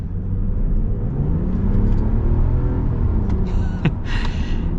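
A 2025 Ram 1500 Rebel pickup with an inline-six engine accelerates, a steady low engine drone rising in pitch, heard from inside the cab along with road rumble and a brief sharp squeak near the end.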